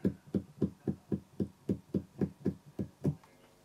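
A steel brake cable laid loosely over an electric guitar pickup, sounding through an amplifier speaker as about a dozen evenly spaced low thumping knocks, steady and moderately loud, with no talk.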